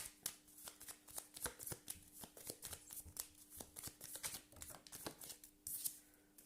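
Tarot cards are shuffled by hand in a quiet room, making a rapid series of crisp riffling snaps and soft slaps, close and fairly faint, repeating for several seconds with no talking.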